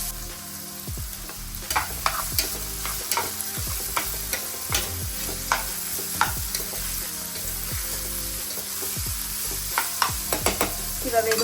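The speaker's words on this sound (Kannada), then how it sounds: "ಇವಾಗ ಇದು ಫ್ರೈ ಆಗ್ತಿದೆ" Food fries steadily in a pan for a breakfast dish, a continuous sizzle broken by repeated scraping strokes of a spatula as it is stirred, close and fairly loud, with no talking.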